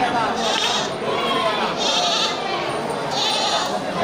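Female goats and sheep at the Bireuen livestock market let out several bleats over a constant crowd din, with people talking throughout.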